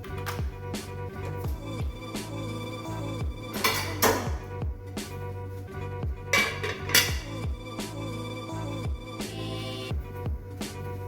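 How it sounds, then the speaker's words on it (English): A wooden spoon knocks and scrapes against a crowded pot of browning oxtail, giving repeated irregular clunks and clatters at close range with a constant low sizzle underneath. "use my wooden spoon just to shift them a bit because it's kind of crowded"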